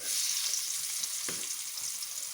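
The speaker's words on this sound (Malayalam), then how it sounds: "സവോള ചെറിയ കഷ്ണങ്ങളാക്കി അരിഞ്ഞെടുത്തു. ഇതിനി വഴറ്റിയെടുക്കാം. സവോള ആദ്യം വഴറ്റാം." Chopped onions, with ginger and garlic, sauté in a pan for a mushroom masala curry, giving a steady close hiss and sizzle with one brief stir scrape.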